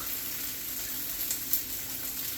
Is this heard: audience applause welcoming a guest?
no